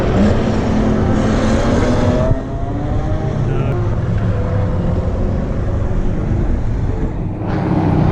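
Race cars at Spa climb a hill into a sharp double S bend, engines droning loudly and continuously with a rising pitch as one passes, fairly close and filling the whole span.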